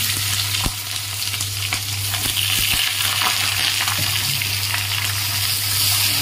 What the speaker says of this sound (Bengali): তেল দিয়ে দিয়েছি, কালো জিরে ফোড়ন দিয়ে দিলাম, দিয়ে এবার পটলটা দিয়ে দিলাম।